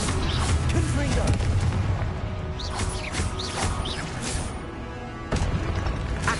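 Confringo fire spell blasts in Hogwarts Legacy go off as loud booming explosions with crackling impacts, one after another in rapid succession across a busy battle.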